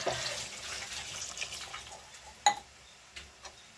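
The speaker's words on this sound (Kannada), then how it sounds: "ಇದಕ್ಕೆ ಸ್ವಲ್ಪ ವಾಟರ್ ಹಾಕೊಳ್ಳೋಣ" Water poured into freshly ground masala for a chicken sambar makes a soft, faint trickle with a few small splashes and clinks, no voices over it.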